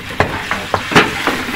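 Onions dropped into a hot pan for browning, a loud close sizzle with several quick stirring scrapes and clacks over the steady frying hiss.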